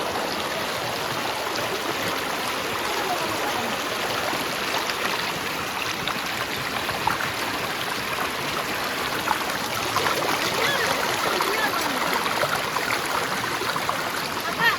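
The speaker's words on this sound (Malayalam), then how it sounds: "അപ്പൊ ഞാൻ ഉരുളി കഴുകിയിട്ട് വരാം." Water splashes and runs steadily as an uruli, a traditional metal cooking vessel, is washed outdoors in the rain, making a continuous rushing, trickling sound at fairly close range.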